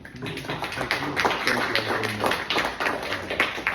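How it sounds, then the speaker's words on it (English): A crowd claps steadily throughout, a busy patter of many hands, close and fairly loud. "Can we give them a round of applause?"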